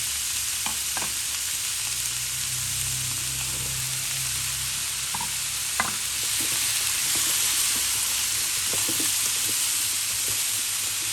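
Pork and onions sizzle steadily in a hot pan while a utensil scrapes and stirs now and then, a constant frying hiss throughout.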